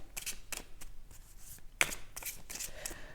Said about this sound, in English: So I'll show you how the shuffling goes.